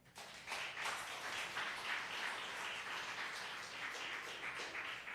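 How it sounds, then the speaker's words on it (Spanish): A church congregation breaks into applause during a sermon, a steady wash of many hands clapping together, heard from a distance and fairly faint. "Den un aplauso al Señor."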